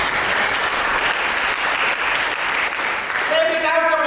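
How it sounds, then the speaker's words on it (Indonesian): A church congregation applauds after a sermon, steady broadband clapping filling the whole stretch at close range, with a sustained tone of an organ or keyboard entering near the end. "Mari kita berikan tepuk tangan."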